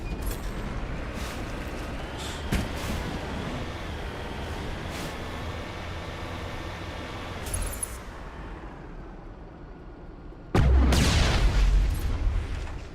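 A tank cannon round in Mass Effect Legendary Edition lands with a sudden, loud deep boom that roars on for a couple of seconds, following a long stretch of rumbling combat noise with scattered smaller impacts.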